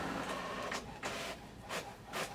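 A small printer prints a label in a run of short, rhythmic mechanical whirring bursts about half a second apart, close and fairly quiet, with no voices.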